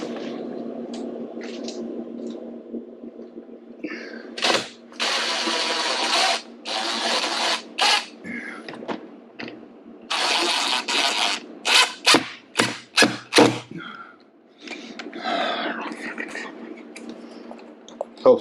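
A power drill driving screws while building a solar battery bank whirs in repeated short bursts, stopping and starting irregularly over a low steady hum, with a few clicks and knocks between runs.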